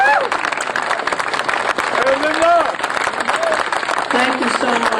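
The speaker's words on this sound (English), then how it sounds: "please give a round of applause to Linda Puglisi" Outdoor crowd applauding for the Town of Cortland Supervisor at a Military Order of the Purple Heart parade ceremony in Peekskill, NY: steady, dense clapping throughout, with cheers and voices riding over it.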